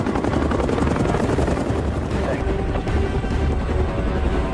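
A helicopter at a base runs continuously with loud, steady rotor chop and engine roar, close and unbroken throughout.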